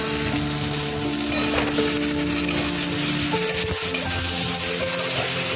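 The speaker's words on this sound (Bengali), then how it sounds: "তো আমার টমেটো দিয়ে হালকা হালকা মোটামুটি ভাজা ভালোই হয়ে গেছে" Chopped tomatoes fry in a pan with a loud, steady sizzle, broken by occasional spatula scrapes and stirring knocks close by.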